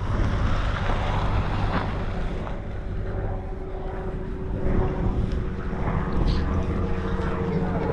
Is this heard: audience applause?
no